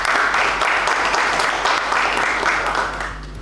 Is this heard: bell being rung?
no